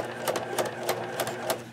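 A sewing machine stitches a zipper onto a bag in a close, steady mechanical whir, its needle thumping in an even rhythm about three times a second, with no talking.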